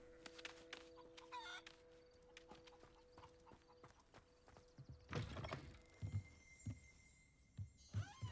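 Chickens in Hogwarts Legacy cluck in short bursts amid clip-clopping hoof-like steps and tonal game sounds, moderately close, with no talk.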